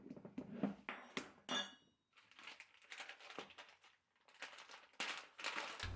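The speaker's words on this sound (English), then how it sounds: "I'm going to level the sugar by scraping the cup on the lip of the container." A measuring cup of sugar scraped across the lip of a sugar container to level it, a series of quiet gritty scrapes and light clinks in quick irregular bursts, close and alone.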